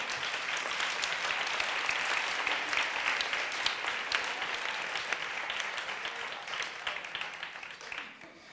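Audience applause at a charity gala event, a dense steady wash of many hands clapping throughout, moderately loud and tapering slightly at the end.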